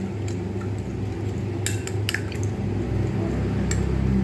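A vegetable cutlet mixture being mixed with egg and cornflour in a bowl: wet squishing and stirring, with a few sharp clinks of a utensil against the dish, close and steady.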